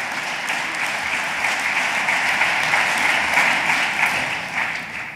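A seated audience at a speech applauds in a dense, sustained wash of clapping, even in loudness and slightly fading at the end, with no talking.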